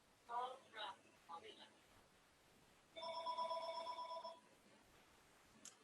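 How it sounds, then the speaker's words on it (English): A telephone rings once in a steady electronic burst lasting over a second, fairly clear in a quiet room after a few brief faint sounds. "sorry, didn't unplug the phones."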